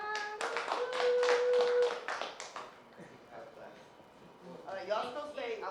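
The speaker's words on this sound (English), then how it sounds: "Clap it up one more time." Several people clap together during a radio show gathering, a brief burst of quick claps near the start that fades into chatter and talk.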